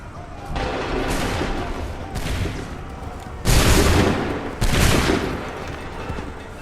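Musket volleys crack out in Assassin's Creed 3 at Lexington and Concord, several loud, dense bursts of massed gunfire in succession, each a sharp crackling wall of shots fading between volleys.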